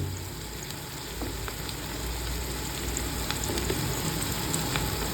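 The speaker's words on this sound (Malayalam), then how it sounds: "ഇനി നമുക്കൊന്ന് മൂപ്പിക്കാനായിട്ട് ഇളക്കി നല്ലപോലെ ഒന്ന് മൂപ്പിച്ചെടുക്കാം." Turmeric and Kashmiri chilli powders fry with onions for a fish roast, giving a steady, close, dense sizzle with faint scattered crackles and light stirring throughout.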